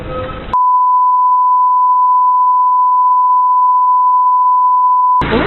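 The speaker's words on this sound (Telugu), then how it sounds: "అంటే ఫోన్ లిఫ్ట్ చేయట్లేదు." An unanswered phone call gives one long, steady electronic tone lasting nearly five seconds, loud and clean, with short bursts of background noise just before and after it.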